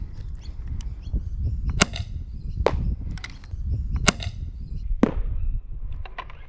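Dart Zone Mk-2 foam dart blaster modified with a brass barrel and spacer, fired in a single shot: a sharp, close pop over a steady background of outdoor noise, with a few other faint clicks and snaps scattered around it.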